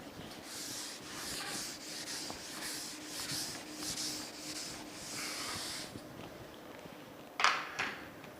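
Writing is erased from a lecture board with repeated scrubbing strokes for several seconds, then a short pause and a brief knock, with no talking.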